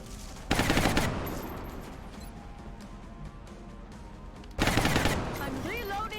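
Suppressive gunfire in XCOM Long War: two loud sustained bursts of rapid automatic fire, one near the start and one near the end, with quieter crackling and battle noise in between.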